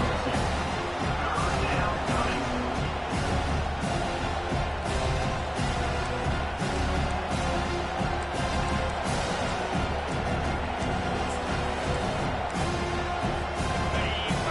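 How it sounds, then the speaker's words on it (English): A football stadium crowd roars on a third-down defensive stand, a dense, steady wall of noise that stays loud and continuous throughout with no clear breaks. "Decibels rising as the crowd gets behind this defense on 3rd down."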